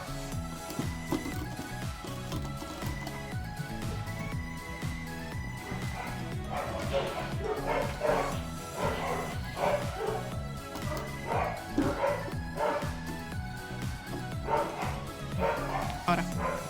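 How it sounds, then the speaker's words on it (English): A dog barks repeatedly, a run of sharp yips and bow-wows that grows busier midway, mixed with a steady background of music. "My dog's barking."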